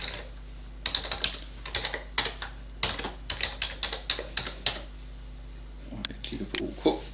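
Clicky computer keyboard typing as a username and password are entered on a server during setup, with irregular bursts of keystrokes over a steady low hum and a quick flurry near the end.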